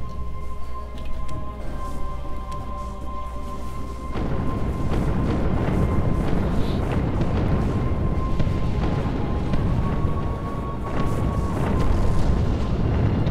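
Missiles explode in the space strategy video game Sins of a Solar Empire as a dense, continuous rumble of overlapping booms. A softer hum opens the passage before a louder barrage swells from about four seconds on.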